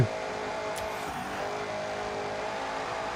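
Car with a 2-valve engine revving on a track in the racing game Forza Horizon 6, a steady, loud engine drone with a brief whoosh early on.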